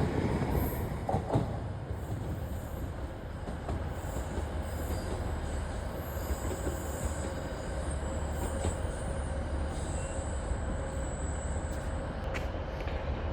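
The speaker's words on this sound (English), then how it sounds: "Arriving in now is an LNER service off to Edinburgh Waverley. Formed as 801 205." An LNER Class 801 unit bound for Edinburgh Waverley rolls into Darlington station, a steady low rumble with faint wheel squeal and a high metallic whine above it, moderately distant and continuous.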